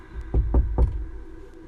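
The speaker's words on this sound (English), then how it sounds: "so he knocks again" Three quick, heavy knocks on a door in close succession, thudding and near, followed by quiet.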